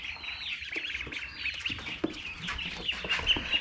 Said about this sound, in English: They're such good little peepers.